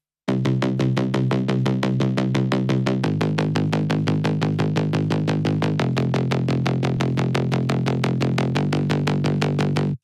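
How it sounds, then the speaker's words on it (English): Filtered drum and bass bass line reintroduced with the cutoff down and slowly opening, a loud, rapid, driving pulse of buzzy distorted notes stepping through pitch changes, continuous and alone. "I've grabbed the main bass line from the song and I've just reintroduced it really slowly with the cutoff being down"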